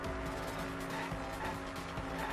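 A racing car in Danganronpa V3 roars steadily with a loud engine, its tires squealing in short bursts as it skids through a lane-change minigame.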